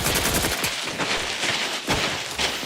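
Rapid gunfire from snipers and other weapons in the video game The Outer Worlds 2, a dense run of loud cracking shots with brief gaps, no talking.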